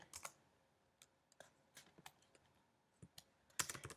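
Code is typed on a computer keyboard in quiet bursts of crisp clicks with pauses between them, ending in a quick flurry of keystrokes.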